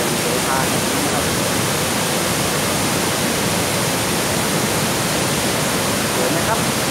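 Kaeng Sopha waterfall in Wang Thong district roars as a loud, dense, steady wash of falling water, close and unbroken throughout.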